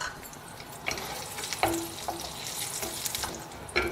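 Urad dal and red chilli fry in hot oil, giving a soft, continuous crackle with scattered clinks and scrapes from stirring in the pan, fairly faint and close, with nobody speaking.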